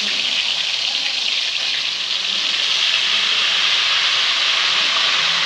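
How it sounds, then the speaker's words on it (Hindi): Ghevar batter hissing loudly as it hits hot ghee, a dense, steady, close-up sizzle that holds unbroken throughout, with a brief spoken word barely above it. "चर करके आवाज आएगा, ये हमारा घी हो गया है।"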